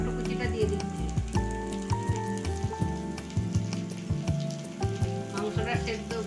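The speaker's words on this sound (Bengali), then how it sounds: "আমি এবার টমেটো কুচিটা দিয়ে দিচ্ছি।" Chopped tomatoes drop into onions and garlic paste frying in a pan for a spicy mutton curry, giving a steady sizzle under continuous tonal background music.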